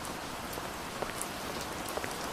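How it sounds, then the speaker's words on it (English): Steady rain in a horror video game set around a church, a dense hiss of drops falling on surfaces with occasional sharper individual drips, constant and enveloping with no voices. "Oh, it's raining blood."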